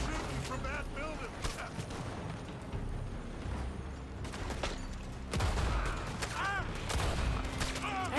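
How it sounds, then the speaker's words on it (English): Gunfire in Red Dead Redemption 2 as shots come from a building: a dense, continuous fusillade of rapid cracks and booms under the game's ambience, with people talking over it and a louder burst near the end. "They're shooting from that building"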